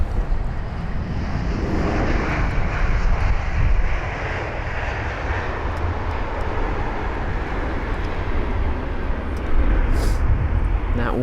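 Kuwait Airways Boeing 777-300ER jet at London Heathrow, a broad steady roar that stays loud and close throughout, with no talk over it.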